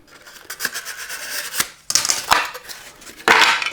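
Scissors snip through paper in a few separate cuts while a shape is cut out for a miniature fantasy-style building, close and fairly loud, with no voices.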